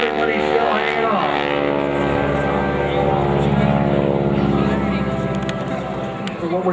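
Wingwalking airshow plane flying past at the 2009 St. Thomas Airshow, a droning propeller engine with shifting pitch, loud and near, heard under continuous announcer talk.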